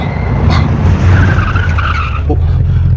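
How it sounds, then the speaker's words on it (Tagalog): A truck skids after losing its brakes, tires screeching loudly and steadily over a heavy engine rumble for several seconds, close and harsh. "Nawala sa preno ang damdag."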